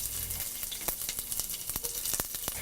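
Ginger and curry leaves sizzle and crackle in hot oil in a frying pan with onion, green chilli and urad dal, a steady close fry with sharp pops.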